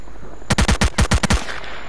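Automatic gunfire in S.T.A.L.K.E.R.: Clear Sky, a single loud burst of about eight rapid shots that rises abruptly from a steady background hum and then tails off into it.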